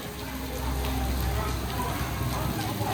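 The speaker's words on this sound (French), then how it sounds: "C'est ça la pluie à Orlando." Heavy rain pours down in Orlando as a dense, continuous hiss of drops on hard surfaces, steady and close throughout, with voices faintly mixed in.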